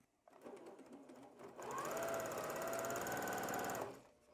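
Chain piecing quilt half-square triangles, a sewing machine runs in one steady, fast stitching burst of about two seconds after softer handling noises. It is close and fairly quiet, with no voices.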